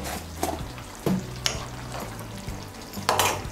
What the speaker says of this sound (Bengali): ঘি আর গরম মশলার গুঁড়োটা ভালো করে মিশিয়ে নেব